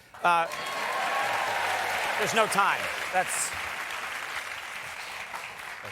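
A talk-show studio audience gives a short burst of applause that quickly settles into a steady patter beneath a man's continuing speech and laughter.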